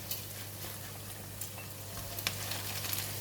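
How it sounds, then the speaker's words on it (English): Sliced onions, fish cake, chili and bok choy stems hiss and crackle in hot oil with a little garlic in a pan, a steady close sizzle with occasional sharper pops and stirring scrapes. "we're going to fry the onions, fish cake, and the chili, the bok choy stem"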